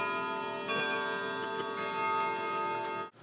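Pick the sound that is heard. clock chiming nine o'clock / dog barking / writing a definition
clock chiming nine o'clock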